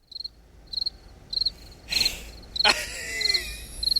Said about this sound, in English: Are we gonna put in some crickets there?